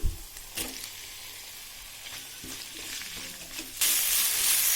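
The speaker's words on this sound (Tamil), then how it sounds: "எல்லாத்தையும் நல்லா மிக்ஸ் பண்ணுங்கள்" Chopped onions and tomatoes fry and get stirred in a pan while cooking carrot beans rice, a steady close sizzle with scraping stir strokes, turning louder and hissier near the end.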